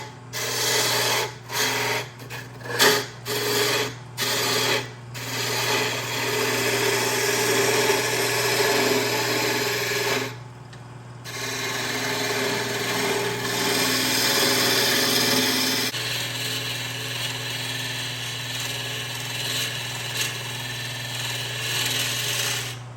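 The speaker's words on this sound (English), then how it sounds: "so we'll use the roughing gouge" A wood lathe spins as a roughing gouge turns down a wooden handle for a socket chisel, giving a steady motor hum with a scraping, rasping cut that starts and stops in short bursts, then runs on continuously.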